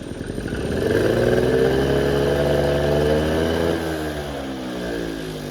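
An engine revs under applied throttle, rising to a sustained, close mid-pitched drone and then easing slightly, with no talk.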